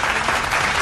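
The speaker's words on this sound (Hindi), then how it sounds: "सेकेंड विजेता है रोहित सागर, इनके लिए भी जोरदार तालियां" Applause for a winner at a singing competition, a brief burst of dense, even clapping at a steady, fairly loud level.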